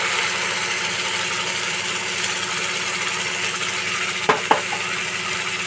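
Onion browned over lowered gas with spice paste added, frying in a pan as a steady, loud sizzle, with two sharp clanks of a utensil near the end and no talk.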